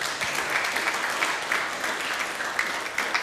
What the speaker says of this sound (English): Can everyone please give Tom a clap?